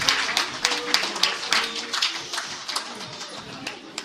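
Audience at a museum presentation applauding the presenters, a dense burst of many hands clapping that slowly thins toward the end, moderately close with no talk.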